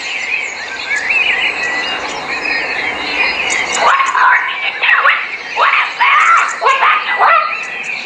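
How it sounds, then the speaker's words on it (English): A cockatoo gives a series of loud, harsh screeching calls, close and repeated in bursts over steady insect-like chirring in the background. "It screams to communicate with other cockatoos."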